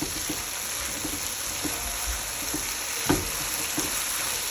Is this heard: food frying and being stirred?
yes